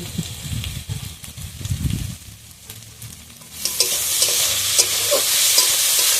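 Ginger and garlic fry in hot oil for a small river-fish curry: soft low clatter and stirring first, then after a short lull a louder, dense sizzle swells and holds with occasional scraping, close and without speech.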